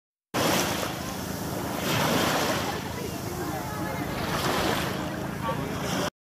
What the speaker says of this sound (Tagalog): Ang sarap pakinggan ng tunog ng alon.